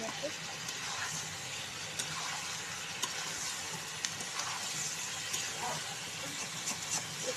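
Chicken kosha frying in a pan over a very high flame, a steady hiss and sizzle with occasional soft clicks of stirring, while someone talks over it.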